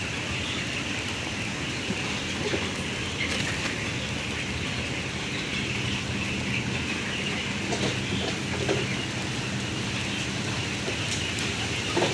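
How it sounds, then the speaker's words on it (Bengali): Heavy rain pouring at a poultry farm, a dense, even roar of drops on surfaces that holds steady throughout with no voices. "প্রচুর বৃষ্টি হচ্ছে"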